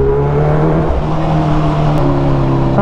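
A Kawasaki H2 Carbon motorcycle engine pulling hard in third gear while riding, a loud steady drone with strong low harmonics, close and continuous, with no talk.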